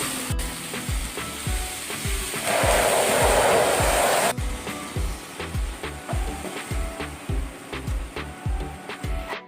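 Chopped vegetables and soya chunks sauté in a hot pan for a chilli soya dish, giving a steady close sizzle with rhythmic scraping and stirring knocks from a spoon against the pan.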